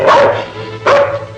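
A dog gives two loud, close barks, the second about a second after the first, with a brief whimpering tail after each.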